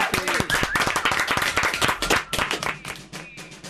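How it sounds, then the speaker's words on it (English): Applause and scattered clapping from a studio audience on a BBC 6 Music radio show, greeting a band's impromptu live session; steady, fairly close clapping that thins toward the end. "Another round of applause."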